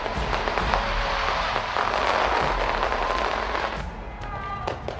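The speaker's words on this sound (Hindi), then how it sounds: "ऑकलैंड के फेमस स्काई टावर पर जबरदस्त आतिशबाजी की गई।" Fireworks display over Auckland's Sky Tower at a New Year 2025 celebration, a dense, continuous barrage of crackling bursts and booms heard from a distance with crowd noise underneath.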